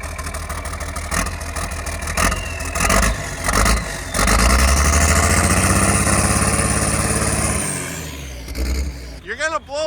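A cold car engine revs in short blips, then climbs into a sustained high rev before dropping back, loud and close, with voices talking.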